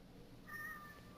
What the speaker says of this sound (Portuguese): Olha o gato